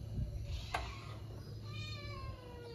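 Several cats meow in a home kitchen while water is being heated for tea, their cries moderately close and rising over a steady background hum, with no talk.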